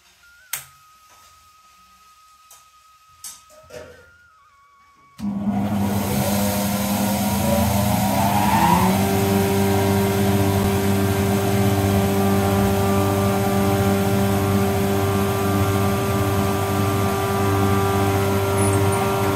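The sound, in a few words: flour mill grinding finger millet (ragi)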